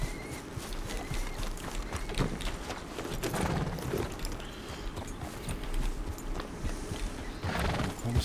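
Horse in Red Dead Redemption 2 neighing and whinnying, with steady clip-clop of hooves throughout, close and clear over a dense game soundscape.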